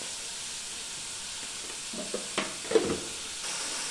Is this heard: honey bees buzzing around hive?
no